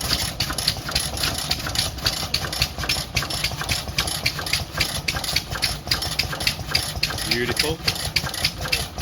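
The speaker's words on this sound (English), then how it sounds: "Don't want to forget the old gas engine." An old gas engine on display at a Red Power tractor show runs steadily nearby with a regular popping beat, while a person speaks briefly over it.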